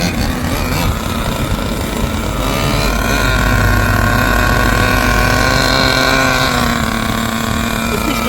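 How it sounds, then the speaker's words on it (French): Small nitro engine of a vintage Nikko GP 15 RC car idling while warming up after a fuel tank change, a loud steady buzzing drone with a slight wavering pitch, close and continuous. "On laisse chauffer le moteur"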